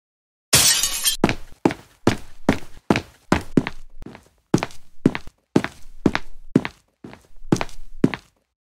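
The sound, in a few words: Xbox console being smashed and destroyed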